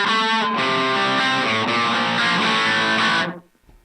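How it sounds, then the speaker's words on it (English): A loud, distorted electric guitar through a Boss Katana Mini amp rings out with a quick slapback echo on each note, then cuts off abruptly near the end. "It has that slap back sound"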